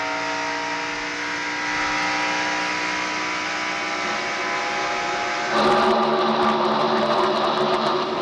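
Race car engine on a NASCAR stock car at Michigan in 1996, heard from an onboard camera mounted under the rear near the fuel cell: a steady, loud, high-pitched drone with harmonic whine that swells louder near the end, with no voices.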